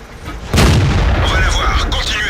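A tank gun shot booms and strikes a Cromwell tank in World of Tanks, a sudden loud blast followed by a sustained rumbling roar and higher rattling debris tones.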